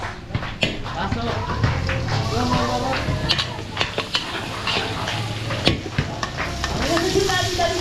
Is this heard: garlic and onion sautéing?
yes